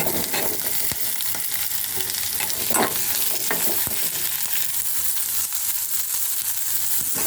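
Garlic, green chili and onion frying in oil in a pan, a continuous close sizzle with a few stirring scrapes and clicks, no voices.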